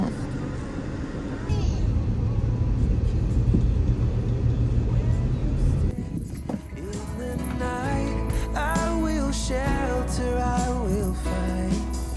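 Cabin rumble of a car being driven in Japan runs steadily throughout, heard from inside, with someone talking over it in the second half.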